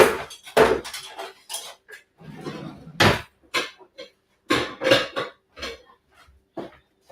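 Metal pie pans and dishes clatter and clank as they are handled in a home kitchen, sharp irregular knocks and scrapes up close, with people talking in between.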